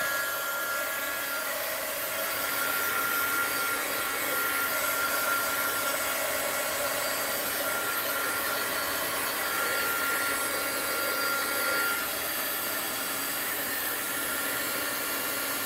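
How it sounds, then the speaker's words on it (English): Heat gun blowing hot air while a clothespin bag is being sewn, a loud continuous whooshing roar that holds steady for the whole stretch with no talk. "Heat gun alert."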